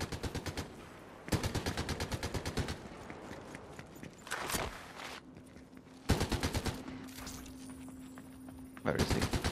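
Rapid automatic gunfire in the Fortnite video game, loud bursts of closely spaced shots separated by brief pauses, with a few single louder blasts and game effects, a voice talking underneath at times.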